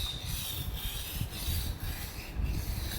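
A file rasps back and forth along a steel knife blade while its tip is repaired and reprofiled, giving repeated close scraping strokes in a steady rhythm with no talk.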